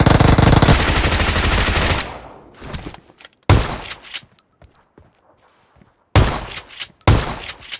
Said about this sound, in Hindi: और मैं शॉटगन लेके रश करता हूँ।